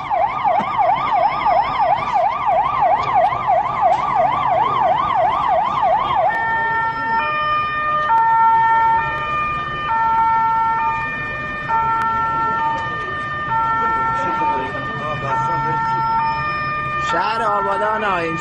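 An ambulance siren on a city street in Abadan, loud and continuous, switching from a fast rising-and-falling wail to a slower two-tone hi-lo pattern, with traffic rumble beneath.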